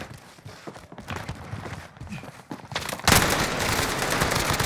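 Gunfire in Call of Duty Warzone during an EM2 loadout match, scattered shots building into a loud, continuous burst of automatic fire.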